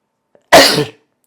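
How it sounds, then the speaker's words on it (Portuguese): A single loud, close sneeze bursts out abruptly in near silence, lasting under half a second. "eu quero espirrar pra caramba."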